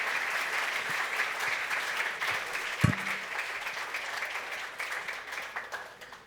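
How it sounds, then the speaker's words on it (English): A conference audience at an awards evening applauds a winner with steady, full clapping. A single sharp knock sounds partway through the applause. "Okay, one more applause, please."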